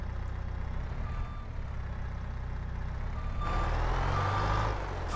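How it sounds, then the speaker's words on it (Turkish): A truck reversing in Farming Simulator 22, its steady intermittent backup beeps sounding over a low engine drone, growing louder with a rush of air in the last seconds. "Araç arka arkaya gidiyor lan."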